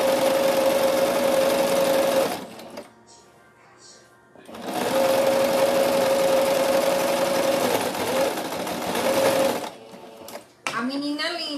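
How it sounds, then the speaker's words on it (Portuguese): A sewing machine stitches a cloth doll's blouse in two long, loud bursts of rapid whirring with a brief pause between, and someone talks over the noise. "Tô passando aqui a costura. Um L fechando essa blusinha,"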